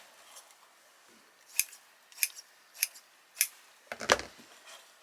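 Scissors snipping through deco mesh while an autumn wreath is assembled, several sharp separate cuts in an irregular rhythm, close and alone with no talking.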